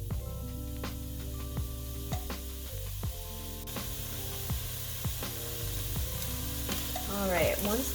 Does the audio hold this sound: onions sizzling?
yes